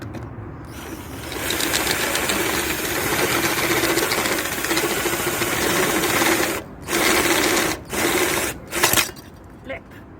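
A drill bores holes in front panels, running as a steady whirring grind for several seconds, then cutting in and out in short bursts near the end.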